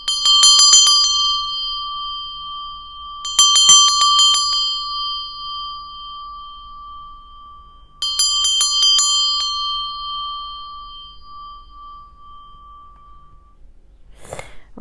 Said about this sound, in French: Et je vous refais un petit coup de cloche du coup.